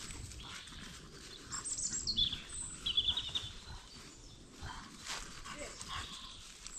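Birds sing in a spring forest, high chirps and short trills heard mid-distance through steady outdoor ambience, with people talking quietly in the background.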